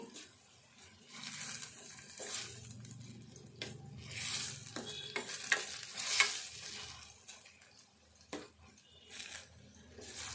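Onion egg masala frying with ginger garlic paste in a pan, a soft sizzle under repeated scraping and stirring strokes from a spoon, with irregular bursts of clatter and a faint voice in the background.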